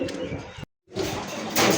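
A pair of Bombay racer pigeons coo close by, with low, breathy calls under busy background noise, broken by a brief silence midway.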